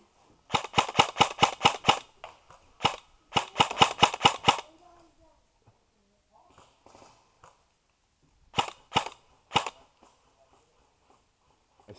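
Airsoft guns fire during an outdoor club game among trees, sharp snapping shots in quick bursts of six or more, then single pops and a later cluster of three, with faint talk in the pauses.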